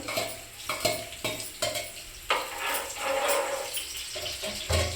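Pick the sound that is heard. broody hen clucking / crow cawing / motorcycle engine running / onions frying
onions frying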